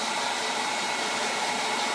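A blow dryer runs steadily and loudly, close by, with a dense, unbroken airy roar while a dog warms itself in front of it on a chilly morning.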